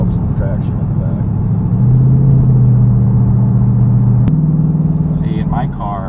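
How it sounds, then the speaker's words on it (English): Engine of a car fitted with a 10-speed 10R80 automatic transmission, a steady low drone that climbs in pitch as it accelerates and shifts, heard from inside the cabin. "See, in my car right there, I've just given it a little bit of gas"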